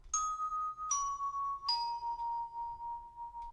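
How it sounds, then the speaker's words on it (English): A regular synthesized bell plays three descending melody notes for a hip-hop beat, each struck clearly and left ringing, the last note sustained alone and fading. "this right here is just a regular bell sound"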